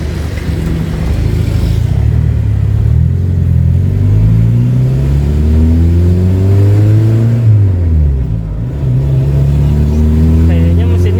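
An old Toyota Corolla KE30's engine runs and revs close by, its loud droning note rising and falling through several gear changes with a brief dip near the end, while people talk inside the car.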